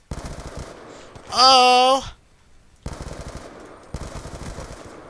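Rapid automatic gunfire crackles in the video game Call of Duty Black Ops 2, with one short burst, a pause and then two longer sustained bursts, loud and close. A player shouts briefly between them.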